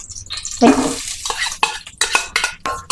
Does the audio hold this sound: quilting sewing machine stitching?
no